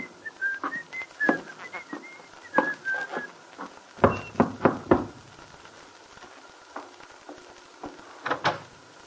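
A man whistles a cheerful, lilting tune while climbing the shallow steps of a small house at an auto court, bright warbling phrases with brief gaps, mixed with light footsteps and knocks near the end.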